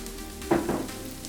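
Celery, pepper and onion hitting a hot pot for beer cheese soup, giving a short close sizzle with a brief stirring scrape, alone.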